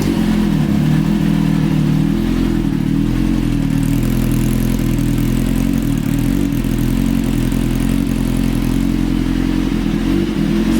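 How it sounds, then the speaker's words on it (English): A motorcycle engine fitted with new coil packs and spark plugs runs at a steady, even idle, close and loud, with a deep continuous rumble and light clatter throughout and no talk. "start it up, because I did coil packs and spark plugs and it sounds really good"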